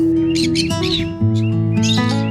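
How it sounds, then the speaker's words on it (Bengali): Birds chirp and call at a green tourist park with a white church between Basirhat and Taki in North 24 Parganas, several bright, overlapping calls repeating steadily and fairly close throughout. "তেমনই শোনা যায় পাখিদের কলতান"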